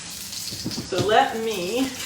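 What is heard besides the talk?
potato patty sizzling in frying pan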